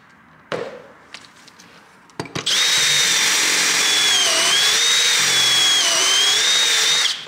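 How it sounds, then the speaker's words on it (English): A power drill bores pocket holes in 3/4 inch plywood for a van or school bus bed frame. A few light knocks come first, then a loud, continuous high-pitched motor whine runs for about five seconds before stopping. "So we're gonna pocket hole the two tall ones for 3/4 inch material."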